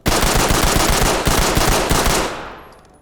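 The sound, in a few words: rapid pistol fire in Ready or Not video game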